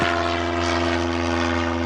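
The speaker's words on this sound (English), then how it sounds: "I got another plane flying right over top of me." A propeller airplane passes right overhead near a lake, a loud, steady droning engine hum that fills the whole moment with no talk.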